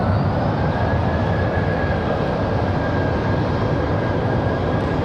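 A Boeing 737 jet departs Raleigh Durham airport, its engines producing a steady, loud broadband roar with a faint high whine, continuous throughout with no voices.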